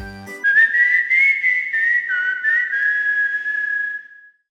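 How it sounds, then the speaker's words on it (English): A Chocobo GP character whistles a cheerful tune: a clear, bright melody that carries on steadily for about four seconds and then fades out, with no talking over it. "When you need him, he's there. Whistling a tune, he's there."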